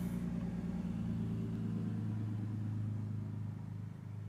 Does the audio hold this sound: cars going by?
yes